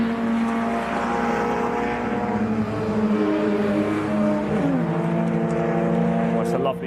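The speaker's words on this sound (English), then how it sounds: "Lovely sound, these cars coming over." MG Cup race cars pass on a racing circuit during qualifying, a loud, sustained engine drone with shifting pitch as they come over, under continuous commentary.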